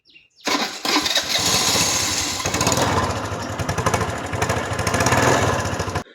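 A motorcycle engine catches and starts with a key, then runs in a steady, loud, rough idle. No talking is heard.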